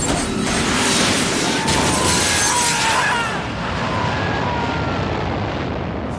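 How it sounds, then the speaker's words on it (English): A jet ejector seat fires in Hitman 3, a loud explosive blast and roaring rush of air that swells for several seconds and then eases into a softer steady whoosh. "Step three, pull the ejector seat handle."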